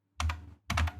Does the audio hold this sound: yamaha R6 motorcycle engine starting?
no